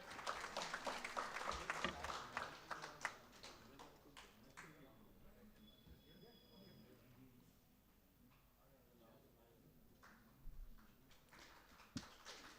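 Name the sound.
audience applause welcoming a guest at a mushaira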